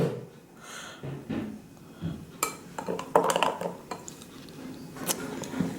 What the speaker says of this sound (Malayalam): അതിനെയും കൂടെ ഒന്ന് മിക്സ് ചെയ്ത് കൊടുക്കാം